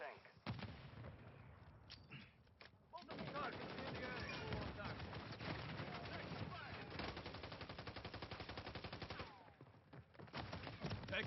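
Sustained gunfire in Call of Duty Modern Warfare 3 multiplayer: dense rapid automatic bursts with heavier booming shots, nearly continuous and loud, with a brief lull before resuming, and voices calling out over it.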